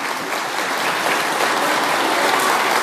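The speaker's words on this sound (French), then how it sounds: "qu'on applaudisse nos catéchistes" Loud, dense applause from a church congregation for the catechists at a first communion in Fameck, a continuous close clapping with no talk.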